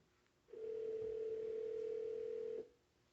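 A steady telephone dial tone hums for about two seconds, then cuts off abruptly, with quiet room noise before and after.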